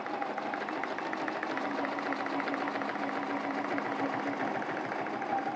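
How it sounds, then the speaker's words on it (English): A sewing machine fitted with a walking foot runs a steady straight line of stitches through a quilt block, its fast even rhythmic clatter continuous and close throughout. "So now I'm gonna stitch the straight line into the red section."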